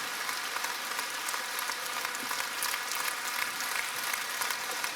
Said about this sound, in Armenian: արեք մի հատ էլ ծափարենք մեր Աստծուն